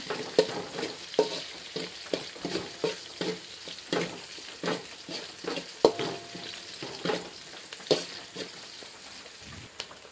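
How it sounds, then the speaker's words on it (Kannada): Green chillies fry in oil for Maharashtra-style poha, sizzling steadily while a spoon scrapes and stirs the pan in repeated rhythmic strokes, close and clear, with no talk. "ಇವಾಗ ಮೆಣಸಿನ್ಕಾಯಿ ಹಾಕೊಂಡ್ಕರೆ ಚೆಂದಾಗಿ ಇರ್ಕೊಂಡು ಸ್ವಲ್ಪ ಇದನ್ನು ಎಣ್ಣೆಗೆ ಫ್ರೈ ಆಗಂಗೆ ಚೆಂದಾಗಿ ಮಿಕ್ಸ್ ಮಾಡ್ಕೊಳ್ತೀನಿ ರೀ"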